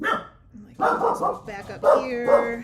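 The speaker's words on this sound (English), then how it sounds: "That's my dog." A pet dog barks and yips in short bursts close by, while a person talks over it.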